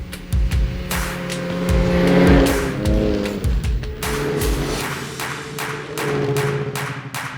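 A snowmobile runs through the forest on groomed snow trails, its engine close and loud, rising and falling as the throttle changes, with no one talking.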